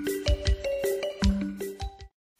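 A mobile phone ringtone plays a bright, bell-like synthesized melody of several quick notes over about two seconds, loud and close, then cuts off into silence.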